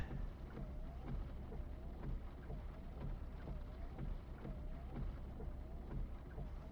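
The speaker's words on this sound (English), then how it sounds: "Sure is raining hard." Heavy rain falls in Final Fantasy VII as a steady, continuous hiss, with a low rumbling bed underneath and faint recurring tones, holding unchanged at moderate level with no talking.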